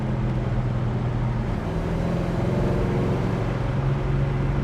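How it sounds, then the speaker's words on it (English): A 1970 Chevrolet Chevelle SS with a big-block engine and 4-speed manual drives at highway speed, giving a steady, loud engine drone and road roar that continues unbroken. "Big block 4-speed car. Doesn't get much better than that for a muscle car."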